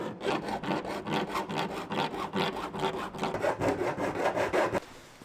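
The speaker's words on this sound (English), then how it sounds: "a little file up and we get that to fit nice and snug" A hand file rasps rapidly back and forth on a cut-out piece being fitted in a van conversion, a dense rhythmic run of close scraping strokes that stops abruptly near the end.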